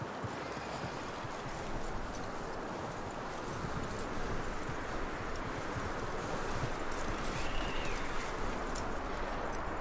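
Steady horse hooves clopping continuously over a dense, noisy Red Dead Redemption 2 outdoor ambience, with rustling and a faint bird in the background.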